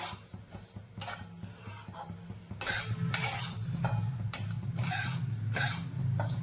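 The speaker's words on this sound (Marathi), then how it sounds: "त्याला सारखं सतत हलवत राहायचं, खाली लागण्याची शक्यता असते, म्हणून याला सतत सतत हलवत राहायचं." Homemade Maharashtrian spice masala, made from 23 ingredients, is stirred constantly in a pan, giving close, repeated scraping strokes over a steady low sizzle, with no voices.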